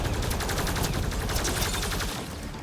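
Turret gunfire in the sci-fi shooter Mass Effect Andromeda, a rapid, loud, continuous burst of automatic shots in fast rhythm that tails off near the end.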